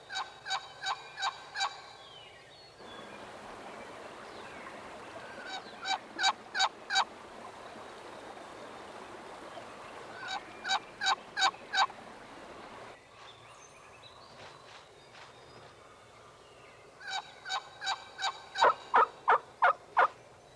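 Wild turkeys call in quick runs of sharp, clucking yelps and gobbles, repeated in bursts of four to eight notes with quiet gaps between, fairly near against a soft outdoor background.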